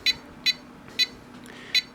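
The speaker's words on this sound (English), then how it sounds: "so if this little beeping is kind of annoying you, we can do that" A Radiolink AT9S radio transmitter emits short, high electronic beeps, four evenly spaced chirps roughly every half second, sharp and close against a faint background hum.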